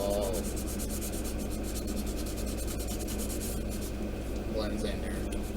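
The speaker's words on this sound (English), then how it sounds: "I'm gonna keep sanding and keep sanding until it all" Steady scratchy rubbing of sandpaper smoothing seams on a plastic model kit, continuous and close, with quick strokes and some faint background hum.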